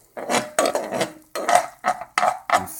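Flour being stirred into a cheese sauce in a pan, heard as a string of short, close scraping and clinking strokes in uneven bursts with brief pauses between them.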